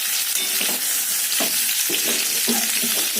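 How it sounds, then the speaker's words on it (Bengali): Potato pieces fry in hot oil in a kitchen pan, giving a loud, steady, close sizzle with intermittent scraping stirs and no voices. "আলু ওদিকে ভাজা হচ্ছে হোক"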